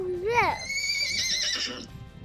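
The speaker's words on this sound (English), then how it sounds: "A horse." A horse on a farm gives one loud, close whinny that rises and then falls in a wavering tail, lasting about a second and a half, with faint background noise and brief voices around it.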